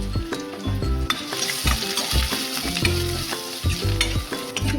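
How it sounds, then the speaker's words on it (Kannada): Dry red chillies and curry leaves frying in hot oil for a tempering, a loud close sizzle and crackle with regular stirring strokes against the pan, no voices. "ಒಣಮೆಣಸಿನ್ಕಾಯಿ, ಕರಿಬೇವು, ಫ್ರೈ ಮಾಡಿ."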